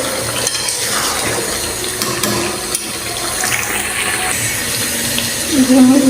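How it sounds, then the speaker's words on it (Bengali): Water is poured into a pot of browned chicken curry with whole garlic while cooking. A steady splashing, running-water sound goes on throughout at close range, swelling slightly at the end, with no one speaking over it. "তরকারিটা কষানো হয়ে গেছে এখন আমি জল দিয়ে দেবো"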